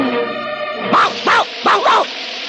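A person imitates a hungry dog, giving four short yelping barks in quick succession after a sustained tonal sound, loud and close.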